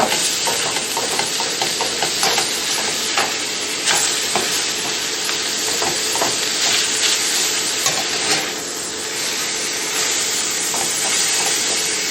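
Ground beef hamburger sizzles loudly in a skillet for a keto beef dish, a continuous close frying hiss with occasional stirring scrapes and no talking.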